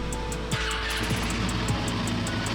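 A Royal Enfield Himalayan 450 motorcycle engine runs steadily up close after starting, giving a constant low rumble with a sharp mechanical transient near the start and faint repeating ticks above it.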